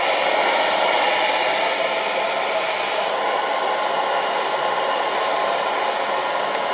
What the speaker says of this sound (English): I always blow dry up to get volume.